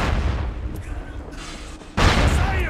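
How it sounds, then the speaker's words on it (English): Warning shots fired in the video game SOCOM Combined Assault boom out as dense, loud blasts that run together, with a sharper, louder burst near the end and no talk over them. "Warning shots, sir."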